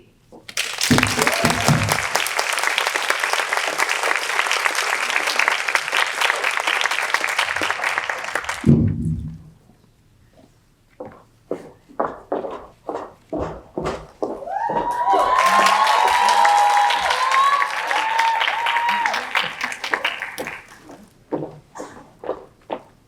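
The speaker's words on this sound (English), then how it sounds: "Can we once again hear another round of applause for all our scouting contestants and their amazing speeches?" Loud sustained audience applause fills the room, breaks off into scattered claps and footsteps, then swells again with cheering before trailing into a few claps.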